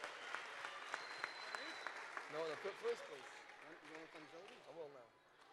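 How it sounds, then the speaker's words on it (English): Applause for second-place winners at a boys' Torah quiz event: a scattered crowd claps in the background, fairly faint, beneath a voice and cheering or chanting voices that rise over it. "Let's give them a big round of applause"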